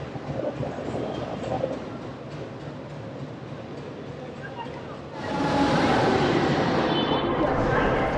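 A train idles at Sealdah station's busy platform, its low rumble and hum swelling louder partway through, with voices murmuring in the background.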